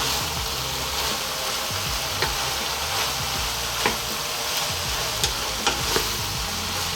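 Lumpia filling of singkamas, cabbage and bean sprouts being stirred in a hot pan, a steady loud sizzle with periodic scraping strokes of the spatula, close and continuous.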